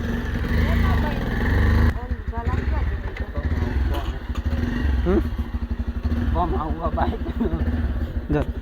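A motorcycle engine rumbles and putters close by, revving unevenly while people talk over it.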